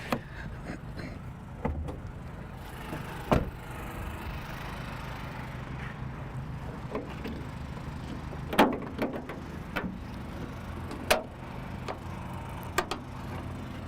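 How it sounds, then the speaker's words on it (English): The hood of a 2021 Winnebago Revel 44E camper van is popped open, giving a few faint clicks and clunks spaced out over a quiet, low background hum. "Let me pop the hood really quick."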